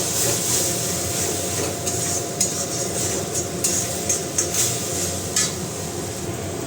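Spice paste (masala) sautéed and stirred in a pan for a fish-head muri ghonto, a steady close sizzle with light scraping and clinks of a spoon against the pan throughout.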